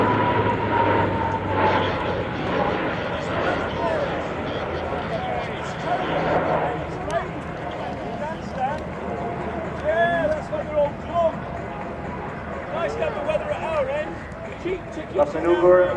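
A fixed-wing aircraft flies a steep approach at the RIAT 2014 airshow. Its engine roar is heard at a distance and rises and falls over the whole clip, while a commentator talks over a loudspeaker.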